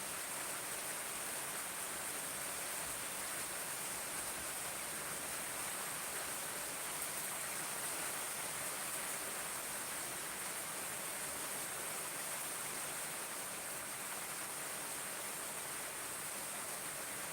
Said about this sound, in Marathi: हा सध्या पाऊस चालू आहे